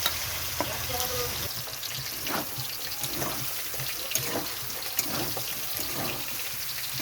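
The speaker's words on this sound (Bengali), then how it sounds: "এখানে আমি পেস্ট করে রাখা মশলাটা দিয়ে দিচ্ছি।" Spice paste goes into a pan of frying paneer, raising a steady sizzle with scattered stirring scrapes and clicks over several seconds, close up and without talk.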